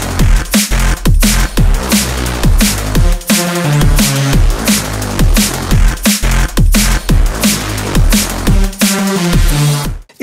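Main-room drum and bass track built with the DC Breaks Halo hybrid synth rompler: punchy fast breakbeat drums with deep sub bass and layered synths, loud and dense throughout.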